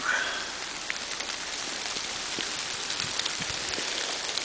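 Rain falls steadily on fall foliage in woodland, a soft continuous hiss with scattered close patters of drops on leaves, fairly faint throughout.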